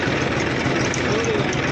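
A 2009 New Holland 3600 tractor idles nearby in a farm field, its low engine rumble running steady and unbroken throughout.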